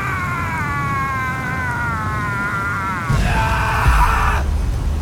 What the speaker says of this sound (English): Whoa, that was a big scream.